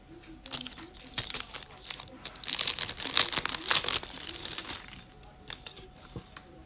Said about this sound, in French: je voulais vous le déballer avec vous